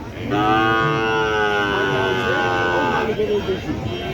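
Cattle at the Baneshwar cattle market low with a long, loud, sustained moo close by, set against a busy background of market noise.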